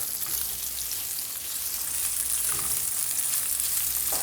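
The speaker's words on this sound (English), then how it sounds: "So I just put the onions in the pan." Onions frying in a pan for a pea rice dish, a steady, dense hiss of sizzling oil, close and loud throughout with a few faint clinks.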